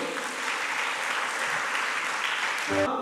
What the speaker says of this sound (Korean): 은혜 주신 하나님께 영광의 박수.